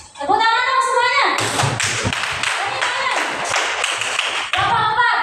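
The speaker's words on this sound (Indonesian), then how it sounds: "Tepuk tangan dong semuanya." Classroom applause from students at the teacher's request, a burst of dense clapping that starts after about a second and runs several seconds, with children's voices mixed in at the start and end.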